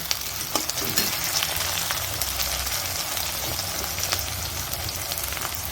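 Cardamom, green chili, garlic, ginger and tomatoes fry in hot oil for a refined-oil chicken curry, a steady broadband sizzle with crackling spits throughout, close and fairly loud, with no talking.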